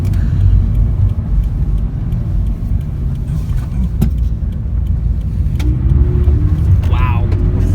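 2017 Toyota 86 engine pulling hard past 4,500 RPM, a loud low rumble from inside the moving car that holds steady and swells near the end, with speech faintly heard in places.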